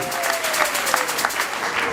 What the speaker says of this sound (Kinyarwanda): Amashyi nyumve cyane.